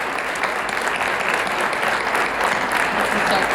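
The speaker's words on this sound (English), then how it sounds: "Let's give her another round of applause" A live audience at a Brainerd, Minnesota event claps for Miss Minnesota in a dense, steady round of applause close by that keeps going without a break.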